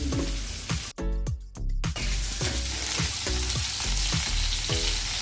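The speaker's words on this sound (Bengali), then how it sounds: "মাছটা আমার একটা পাশ ভাজা হয়েছে, আর একটা ভাজা হচ্ছে।" A piece of rohu fish frying in oil in a pan, a steady close sizzle with repeated scraping stir sounds and a short burst of louder spitting near the start, with no talking.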